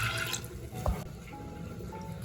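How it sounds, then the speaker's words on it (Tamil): Water pouring from a cup into a pressure cooker while moong dal is being made, a soft splashing and trickling that is fairly quiet and runs for about two seconds. "1 கப் தண்ணி விட்டுக்கிறேன்."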